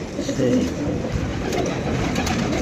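Pigeons coo close by in low, throaty rolling calls that carry on without pause, while people talk nearby.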